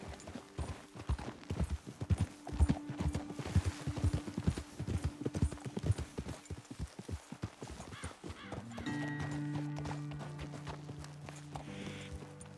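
Horse hooves clip-clop in the Red Dead Redemption 2 video game, a dense, rhythmic run of close hoof strikes that fades out, followed by steady tonal in-game ambience and a short whinny.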